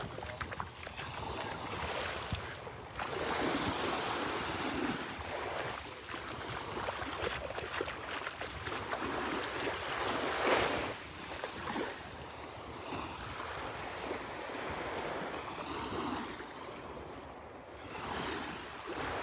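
Waves of an incoming tide wash ashore at Delnor-Wiggins beach, a soft continuous surf roar with gentle swells and some wind buffeting the microphone, heard without talking.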